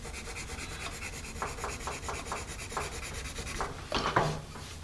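An HB pencil, a Monoprix wood or plastic model, writes on paper in quiet, scratchy strokes, a run of short rubbing marks followed by a slightly louder flurry near the end.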